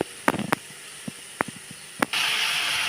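Chopped eggplant drops into a pan of fried onions: a few sharp clicks and clatters, then a bright, steady sizzle breaks out and keeps hissing to the end.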